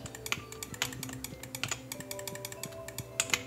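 Computer mouse clicks sound during Stardew Valley 1.5 gameplay: a quick, irregular run of sharp, close taps layered over soft, steady game music, with no talking.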